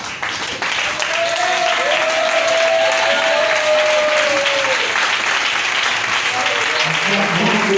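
A church congregation claps together in sustained, loud applause that fills the room, with voices singing and calling out over the clapping throughout.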